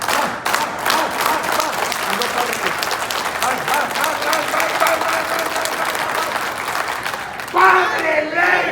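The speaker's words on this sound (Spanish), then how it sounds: "Y luego vamos aplaudiendo" Audience applause at a commemorative panel honoring Padre Lorenzo Reyes Soto in Durango, a steady crowd clapping that fills the room throughout, with a voice speaking over it near the end.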